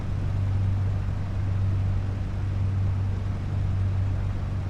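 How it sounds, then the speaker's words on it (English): A piston engine running rough on a single magneto, a steady, loud, low droning hum that holds evenly throughout with no voices. "that roughness that you hear from the engine"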